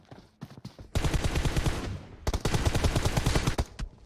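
Rapid bursts of automatic gunfire from a team deathmatch video game, loud and close, with a couple of short shots early on, then two long sustained volleys separated by a brief pause.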